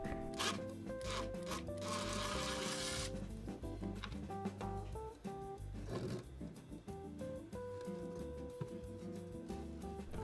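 Rusted screws are worked out of a thin wooden front baffle of a Harbeth speaker, giving scraping, grinding and squeaky turning sounds in close, irregular bursts with no talk.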